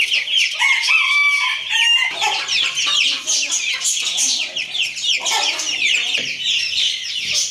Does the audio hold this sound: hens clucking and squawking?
yes